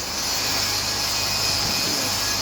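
An electric grinder sharpens an axe aboard a boat at sea, giving a loud, continuous whirring roar with a high, steady whine throughout.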